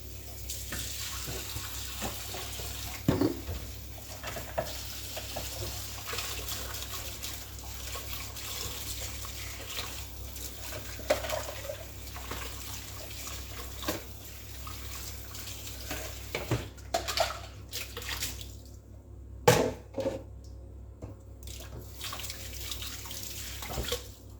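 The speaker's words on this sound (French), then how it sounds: "Je vais juste rincer mon pichet et ma spatule." Tap water runs steadily into a kitchen sink while a pitcher and spatula are rinsed after making a lemon cake, a soft continuous wash with a few clinks and splashes and no talking.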